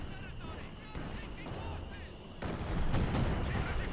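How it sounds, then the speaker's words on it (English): Heavy mortar bombs explode in the World War II strategy game Company of Heroes 2, a dense rumbling barrage of blasts that grows heavier toward the end, running under battle noise and a caster's commentary. "we got delayed heavy mortar bombs here from F3rig"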